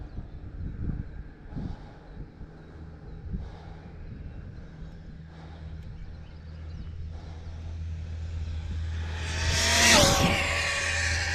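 A Rlaarlo AK917 3S radio-controlled car runs outdoors at full throttle, with a steady motor whine and wind buffeting the microphone, swelling into a loud, rising high-pitched scream as it speeds close by near the end.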